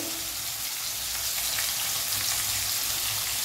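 Turmeric and chili powder sauté in hot oil in a pan for a cauliflower and potato dish, giving a steady, close hiss of sizzling at a low flame with no talk.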